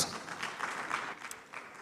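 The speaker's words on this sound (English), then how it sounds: "There you go, a round of applause for Canex." A conference hall audience claps in a soft, scattered patter, fairly distant and subdued, for under two seconds.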